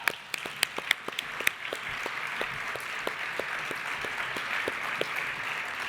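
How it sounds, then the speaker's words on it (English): Audience applause for two panelists at an inclusion summit plenary, a dense sustained clapping that starts with a few sharp near claps and holds steady for several seconds. "Give them a round of applause."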